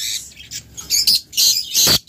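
Lovebirds at a breeding farm squawking in short, loud, harsh bursts, several calls close together with brief gaps, no talk over them.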